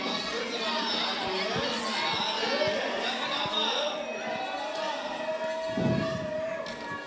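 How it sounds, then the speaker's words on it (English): Crowd cheering at the UIAA Ice Climbing Continental Cup finals in Bern, Switzerland, a steady wash of shouting and chatter with a commentator talking over it. "You can hear the crowd cheering on Haruko coming from so far away."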